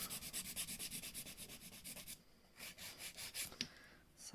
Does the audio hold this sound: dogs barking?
no